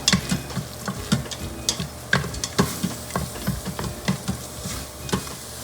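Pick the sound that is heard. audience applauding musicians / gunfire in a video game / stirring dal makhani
stirring dal makhani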